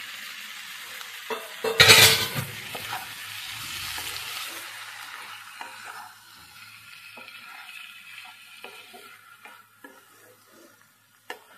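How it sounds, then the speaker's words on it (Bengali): Salt-and-turmeric marinated prawns dropped into frying masala, a sudden loud sizzle burst that fades into quieter crackling and occasional utensil clicks and stirring scrapes. "এবারে নুন হলুদ মাখানো চিংড়ি মাছগুলো দিয়ে দিলাম"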